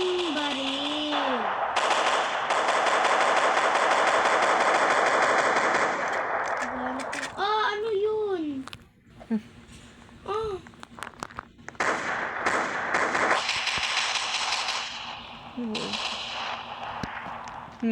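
Gunfire in Roblox Brookhaven: long sustained bursts of rapid automatic shots for several seconds, then scattered single pops with game sound effects and voices talking over them.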